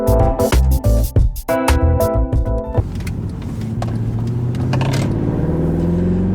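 A Mercedes W204 C63 AMG at full throttle: choppy, loud engine bursts and tones at first, then a steady close engine drone as the car pulls hard.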